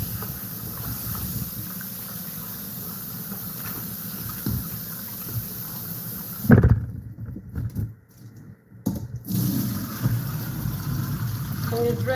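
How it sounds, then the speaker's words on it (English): Water pours into a cooking pot of beans, a steady broadband rush that runs loud before cutting out briefly and then resuming, with no voices over it. "So you just add more water"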